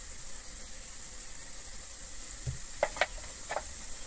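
Cauliflower roast sizzling in a pan as Kashmiri chilli powder is stirred in, a soft constant hiss broken by a few scraping and tapping stir strokes near the end.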